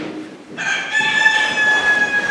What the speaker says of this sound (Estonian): Aga sel samal silmapilgul laulis kukk.